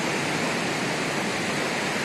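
A waterfall along the Annapurna trek in Nepal roars as a steady, dense rush of falling water, loud and continuous throughout without any break or voices.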